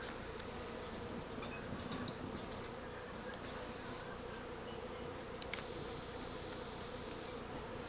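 A honeybee swarm hums steadily at an apiary, a dense continuous buzz of many bees filling the air, with a few louder bees passing close to the microphone.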